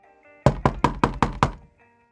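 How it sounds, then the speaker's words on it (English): Six hard, evenly spaced knocks on a doctor's office door, loud and close with a booming wooden thud to each, followed by quiet. "He knocked hard, like a man with war medals might knock."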